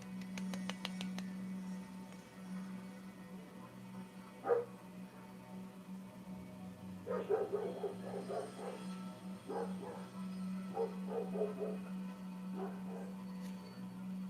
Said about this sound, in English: Dog's starting to bark all loud and shit.